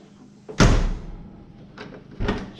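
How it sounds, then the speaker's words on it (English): A 1965 Ford Mustang door, freshly fitted with a new door panel and a rebuilt vent window frame, shuts with one solid, close thud, followed by a second, lighter knock a moment later. "Door closes real nice."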